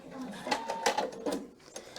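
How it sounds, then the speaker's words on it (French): A PFA sewing machine cuts the thread with a short run of mechanical whirs and clicks over about two seconds, close and moderately loud, while a voice talks over it. "Je vais couper le fil."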